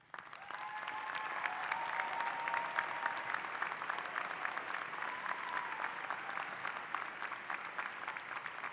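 At a College of Liberal Arts commencement ceremony, the audience applauds the rising Honors Scholar candidates with sustained, even applause from a large crowd that swells quickly and holds for several seconds.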